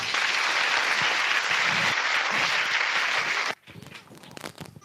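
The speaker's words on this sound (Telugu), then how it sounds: "క్లాప్స్ కొట్టినమ్మా అందరూ గట్టిగా" Sunday school students clap loudly together in a dense burst of applause that runs for several seconds, then stops abruptly, leaving faint scattered room sounds.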